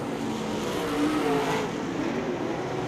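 Late model race cars at Ocala Speedway during an All-Star Late Model feature, their engines droning in a steady, dense roar with a slight swell near the middle, no voices over it.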